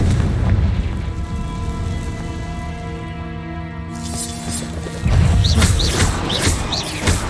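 Confringo fire-blast spells in the Hogwarts Legacy game, a dense run of loud booming explosions and crashing impacts over sustained tonal game music, with a fresh heavy burst near the end.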